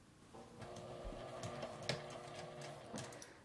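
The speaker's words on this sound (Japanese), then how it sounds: "さっき縫った縫い目の内側を縫います。" A sewing machine stitches along the curve of an L-shaped zipper, a soft, steady mechanical whir with faint ticking, quiet and close.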